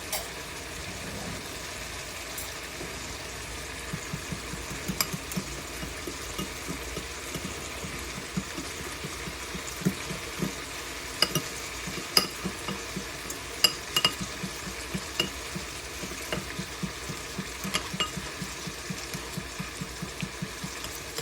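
Oil and flour cooking together in a pan for a homemade chicken pot pie mix, stirred with a steady rhythmic scraping over a low, continuous sizzle for about twenty seconds, with no one talking.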